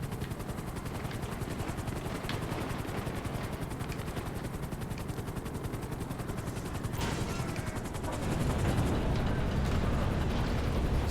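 A tiny, slow helicopter in GTA 5 drones with a steady, dense rotor chop that fills the whole stretch, growing slightly louder and heavier near the end, with no talking.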